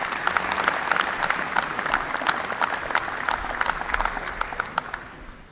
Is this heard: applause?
yes